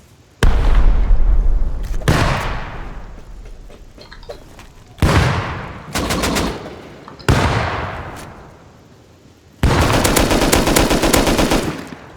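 Loud explosive blasts from bombs in the video game Rust, several heavy booms with long rumbling decays arriving in separate bursts over the span, the last one dense and sustained like rapid gunfire.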